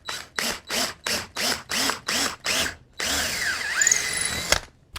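A power drill pre-drills holes in a wooden piece meant to be screwed to a wall stud: eight short, loud whirring bursts in steady succession, then one longer continuous run of the motor, close and clear.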